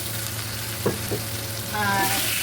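Pork sautéing with onion in a pan, a steady close sizzle with a couple of brief scraping stirs partway through and a brighter burst of hissing near the end.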